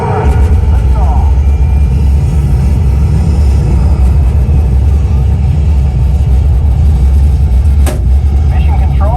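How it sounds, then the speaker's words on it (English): Loud, continuous low rumble of a simulated rocket launch aboard the Mission Space ride (Green side), a heavy vibrating roar sustained throughout with a brief sharper burst near the end, as a recorded voice speaks over it. "We have main engine start. 5, 4, 3, 2, 1. Lift off."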